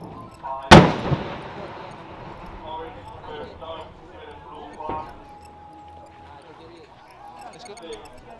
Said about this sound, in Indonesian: inilah penembakan dari meriam